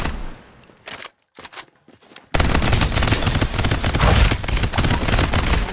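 Dense, sustained automatic gunfire from a Farlight 84 battle royale firefight, loud and continuous for several seconds after a sparser opening of scattered shots and brief pauses.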